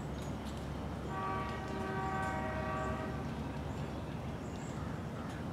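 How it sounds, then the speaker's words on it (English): A train horn sounds from a distance, a sustained multi-tone blast lasting about two seconds over a steady background rumble, fairly faint and with no talk. "Now that's a train horn."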